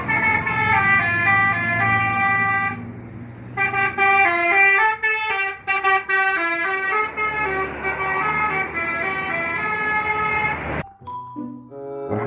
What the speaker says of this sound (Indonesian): Wah, kali ini ada bus TNI teman-teman.